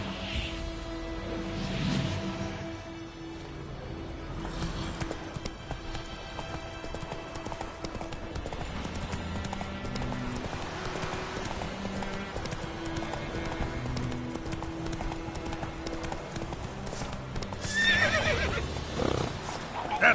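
Roach the horse in a PS4 video game gallops with steady clip-clop hoofbeats and lets out whinnying neighs, moderately loud over a busy game soundtrack.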